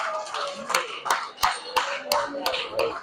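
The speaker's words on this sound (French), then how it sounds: "Merci, on applaudit très fort." Clapping from an audience at a presidential investiture ceremony in Paris, with distinct sharp claps spaced in a slow rhythm over a murmur of voices and talk.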